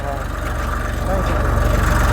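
A tractor engine runs steadily in a field, a close, continuous low rumble with a slight rise in loudness midway.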